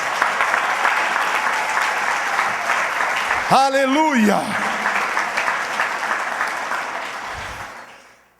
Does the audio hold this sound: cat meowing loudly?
no